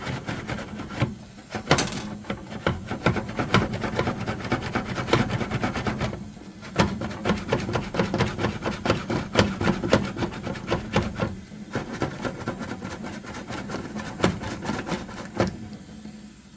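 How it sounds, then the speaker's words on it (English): Bottles of ink for a Refinecolor printer, left unused for weeks, are shaken by hand one at a time, giving a steady, close rattling and swishing rhythm with brief pauses and no talking. "So I'm just going to go ahead and start shaking these bottles"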